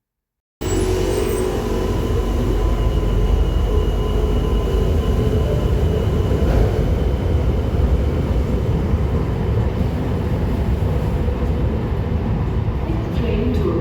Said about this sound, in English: let's take a look at one of the old Tyne and Wear Metro trains departing Sunderland Station, heading south to South Hilton